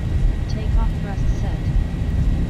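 Airliner engines at takeoff thrust in a Zibo mod flight simulator make a steady low roar that runs throughout, with faint voices over it.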